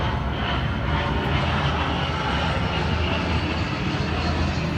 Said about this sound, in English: Let's just wait for this plane to go by.